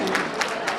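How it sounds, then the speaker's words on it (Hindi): Brief burst of audience applause and cheering at Inaam Ghar Canada 2025, a live prize game show, with clapping swelling in a few quick waves over a steady crowd murmur. "तालियां।"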